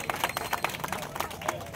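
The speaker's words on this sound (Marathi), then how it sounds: "जोरदार टाळ्या" Scattered hand claps at a Christian community sit-in protest in Nanded, fairly faint and uneven, with crowd murmur and voices underneath.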